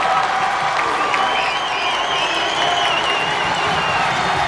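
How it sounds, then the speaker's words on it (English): A basketball arena crowd cheers and shouts during a Maine vs Vermont game, producing a loud, steady roar of many voices with whoops and scattered clapping, with no single voice standing out. "The crowd here making some noise as Maine looks for a stop on defense."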